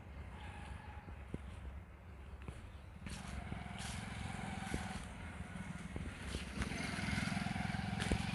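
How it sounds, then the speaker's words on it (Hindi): Forest guards' motorcycle passes close by on a trail in Changa Manga forest, its engine rising in loudness toward the end amid scattered clicks and rustles, with no one speaking. "अभी बाइक हमारे पास से गुज़री है"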